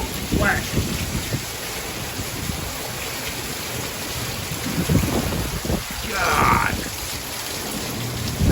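Severe monsoon thunderstorm with heavy rain pouring steadily close by and strong wind, thunder rumbling low through it, a person speaking briefly over the downpour.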